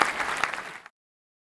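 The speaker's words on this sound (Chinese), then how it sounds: "给他们一个热烈的掌声。" Applause from a seminar audience bursts out at once, dense steady clapping that stays loud for under a second and then cuts off abruptly into silence.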